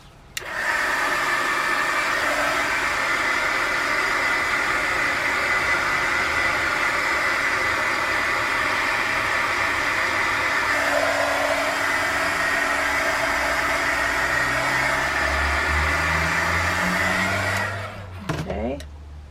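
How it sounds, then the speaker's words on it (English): Hair dryer blowing on alcohol ink, a loud, steady, close-up whooshing drone that runs almost unbroken before shutting off near the end, with no speech over it. "I'm going to dry it again real quick."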